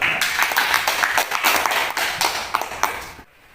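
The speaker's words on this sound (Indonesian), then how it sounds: "Tepuk tangan untuk kelas." A classroom of students claps together in a quick, busy burst of many hands, steady for about three seconds before stopping abruptly.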